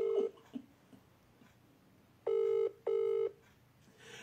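Two short electronic phone rings sound in quick succession after a quiet stretch with a few faint clicks, fairly close and clear.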